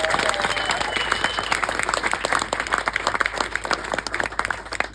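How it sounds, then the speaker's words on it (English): Wedding guests at a reception break into sustained applause during a best man's speech, a dense, steady wash of many hands clapping that carries through the whole moment. "Will we please have a round of applause for Joanna, Eric, Mum, Dad,"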